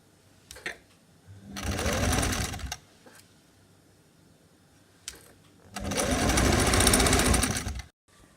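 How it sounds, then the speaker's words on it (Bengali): A sewing machine stitches the side seam of a two-layer long party dress in two loud, close bursts of rapid whirring, with quieter clicks and handling sounds between runs. "এখন আমি সাইডে দিয়ে সেলাই মারি দিব।"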